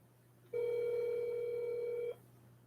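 A telephone tone during a call-in show, one steady unbroken beep lasting about a second and a half, clear and close over faint hum, with no talking.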